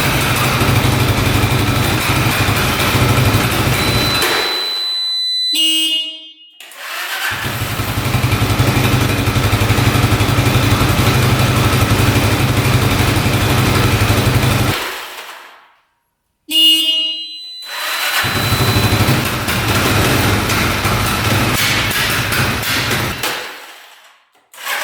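A street legal dirt bike engine idles while warming up, loud and close, running steadily in long stretches broken by two brief cutoffs or drops before picking back up.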